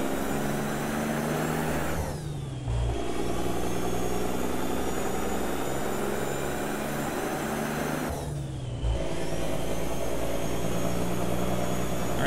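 A truck engine idles in American Truck Simulator with the Kriechbaum sound pack, a steady low rumble and whine, briefly dipping twice as if revved down, no voices.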